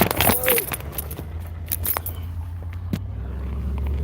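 A truck passes close by with a low rumbling engine drone that builds and holds toward the end, over scattered clicks and rustling nearby.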